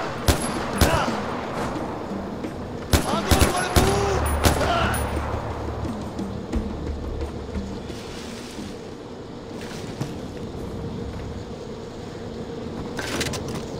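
Far Cry 4 gunfire: a cluster of sharp, loud shots and rapid bursts early on, then scattered distant reports over a rushing water and boat ambience.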